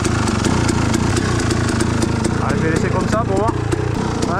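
A motorcycle engine idles close by while its idle screw is adjusted, a loud, steady chugging putter with faint ticking over it, and someone talks over the running engine.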